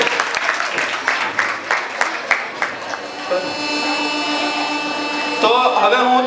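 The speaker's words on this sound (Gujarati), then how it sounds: "Big round of applause four third and fourth student." Applause from an audience at a school prize distribution ceremony, several seconds of clapping that fades into steady hall hum with a tonal musical drone near the end.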